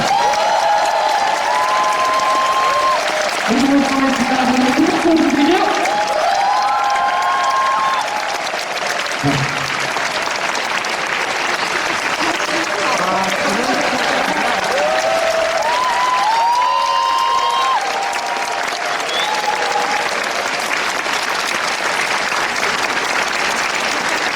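A concert audience at a military division event gives sustained, loud applause for the conductor and performers, dense clapping with some cheering carrying on throughout, with a voice speaking over part of it.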